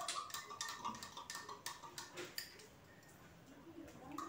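Spoon clinking against a cup while stirring a hot drink mixed from Boost, Horlicks, Sunrise and Bru powders, a quick run of light metallic taps and scrapes up close, fading into softer swirling.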